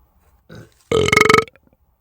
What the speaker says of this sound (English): I think I may have burped